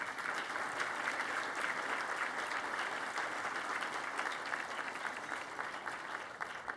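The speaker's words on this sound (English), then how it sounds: "I think they deserve a special round of applause for that." Audience applause at a gala honoring an internet pioneer, a steady, dense wash of many hands clapping that fills the room at moderate distance and holds evenly throughout with no talk over it.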